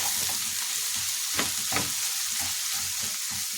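Tomatoes sauté in a pan with a steady, close, even sizzle, broken by a couple of brief stirring scrapes.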